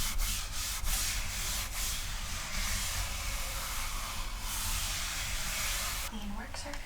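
Steady, close rubbing and scrubbing of a coconut-scented wipe across a work surface, soft hissy friction with a few brief louder swipes and faint voice traces.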